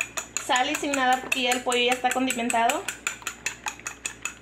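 A utensil clinks rapidly against a bowl while egg whites are mixed for breaded fried chicken. Someone speaks over the first part, and the steady tapping continues alone afterward.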